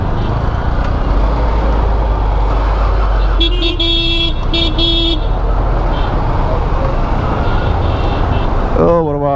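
Road traffic jam: a steady, loud roar of idling and creeping engines, with repeated short car horn toots in the middle and a rising horn or siren-like tone near the end.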